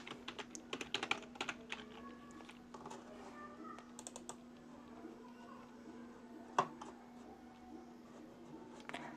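Keys clatter on a computer keyboard as a code comment is typed for a Pygame space shooter game, with quick bursts of keystrokes, then sparser taps over a steady low hum, quiet and close.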